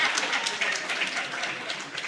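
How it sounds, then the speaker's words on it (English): Audience at a Jamaican book launch on elections and governance giving a round of applause, a steady wash of moderate clapping from a seated crowd. "Give a round of applause"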